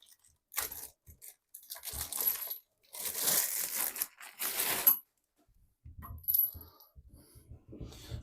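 A bidet's water supply line is pulled out of a plastic bag, giving several bursts of crinkling, rustling plastic with brief pauses and a few small clinks, close and fairly quiet.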